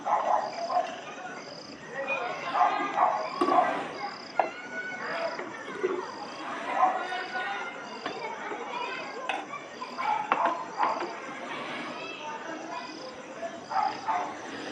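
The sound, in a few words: insects chirping at night during rain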